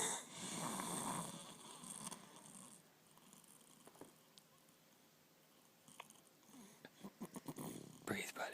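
A person snores faintly, with soft, rough breathing and a few clicks and mouth noises toward the end; the whole clip is quiet and close.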